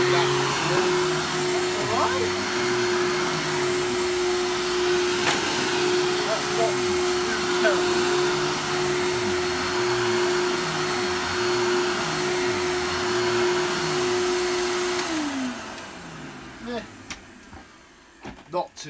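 A Hoover Lux vacuum cleaner runs with a steady motor whine and a droning hum, its pitch wobbling as it moves, before it switches off and winds down near the end.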